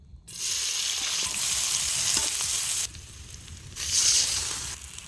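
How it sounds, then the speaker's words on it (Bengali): Onions and green chillies fry in a hot pan with a loud, steady sizzle that drops away briefly and then surges back, with no voices. "এখন পেঁয়াজ আর কাঁচামরিচগুলো ভেজে নিব"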